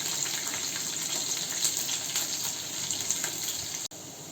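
Cumin seeds and crushed garlic frying in a small amount of oil make a steady, close sizzle with fine crackling that holds evenly throughout, with no voices, and cuts off abruptly near the end.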